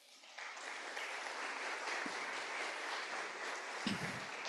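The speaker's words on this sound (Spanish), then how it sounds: "Y quiero que se den un fuerte aplauso por preocuparse por ustedes." Sustained applause from an audience of patients at a talk, a dense even patter of many hands clapping steadily throughout at moderate distance.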